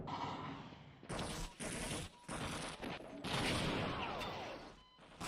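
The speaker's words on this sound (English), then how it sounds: "Oh my, they're shooting back." Enemy soldiers return fire in the PC shooter Half-Life, a chaotic stretch of dense gunfire bursts and crashing impacts with brief gaps, loud and continuous.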